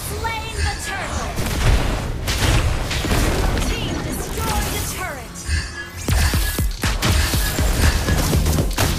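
Turret being destroyed in the Mobile Legends video game, with heavy booms and crashing impacts layered over busy battle effects and announcer-style voices, loud and continuous for several seconds.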